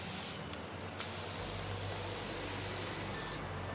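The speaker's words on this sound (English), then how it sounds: "spraying all over the balloons, I'll test this out" An aerosol can sprays in one continuous hiss over balloons in an outdoor balloon garland, close and steady, beginning after a brief lighter burst.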